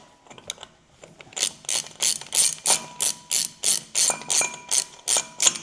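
A ratchet fitted with a 54 mm hub socket loosens the front hub lock nut on an 80 Series Land Cruiser, clicking in a dozen or so rapid, evenly spaced bursts, close and loud with no talking.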